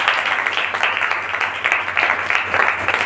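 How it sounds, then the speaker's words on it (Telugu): A congregation at a morning church meeting claps together, a dense, steady wash of many hands that rises and falls in loudness throughout, filling the hall without pause. "నమ్మిన వారు చప్పట్లు కొట్టి,"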